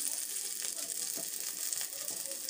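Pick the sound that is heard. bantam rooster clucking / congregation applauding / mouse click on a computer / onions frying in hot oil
onions frying in hot oil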